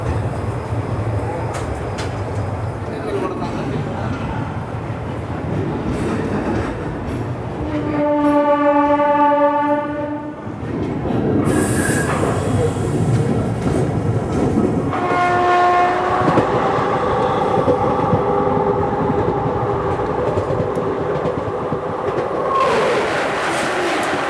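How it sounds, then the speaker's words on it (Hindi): Yelahanka Kacheguda Express running on the rail line in India, its steady rumble carrying throughout, with a loud multi-tone horn blast near the middle and a second horn sounding a little later over the continuing train noise. "यलहंका काचीगुड़ा एक्सप्रेस।"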